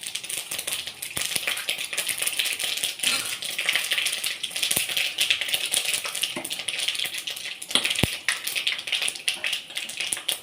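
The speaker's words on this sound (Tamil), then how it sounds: "கடுகு போட்டிருக்கேன்." Mustard seeds and cumin splutter in hot oil, a tempering for a South Indian greens dish. Dense, faint crackling and ticking pops scatter irregularly, with a few sharper snaps.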